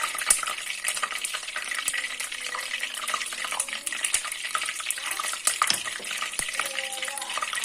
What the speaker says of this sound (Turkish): Ayçiçek yağımı, sıvı yağımı ekliyorum. Tereyağımızı eriyor.